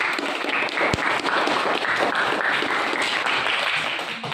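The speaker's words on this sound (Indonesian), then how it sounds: "Iya, boleh tepuk tangan." Classroom of students clapping together, a steady dense patter of many hands at fairly close range, continuing throughout with one sharp louder clap near the start.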